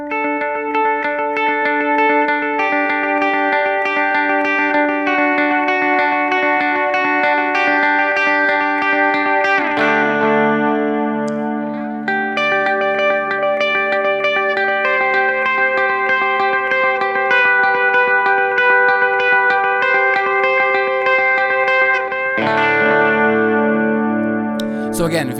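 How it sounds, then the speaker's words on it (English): Clean electric guitar playing rhythmic, crisp repeating notes through a Walrus Audio ARP delay pedal set to a tap-tempo, U2-style rhythmic delay, the echoes filling the gaps in a steady sustained pattern with brief pauses between phrases. "So again, very clean, very crisp kind of delay sounds."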